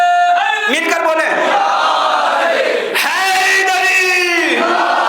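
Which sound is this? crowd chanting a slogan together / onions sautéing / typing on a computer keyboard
crowd chanting a slogan together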